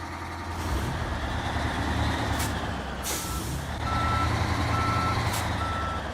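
A logging truck in the SnowRunner game reverses under a heavy engine rumble, with a hiss of air brakes, then regular reversing beeps sounding in the second half.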